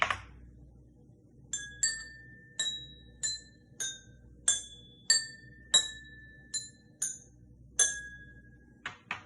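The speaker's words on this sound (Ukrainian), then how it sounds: "У нас вийшов водяний ксилофон." Glasses filled with differing amounts of water are struck one at a time, giving about a dozen clear ringing pings at varying pitches that fade quickly, close and bright.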